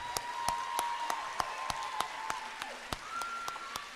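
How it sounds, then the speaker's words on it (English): Applause for a student group at a Lawton Public Schools celebration evening: sharp, evenly spaced claps ring out over a steady hum and a faint wash of crowd noise. "let's give this group a big round of applause."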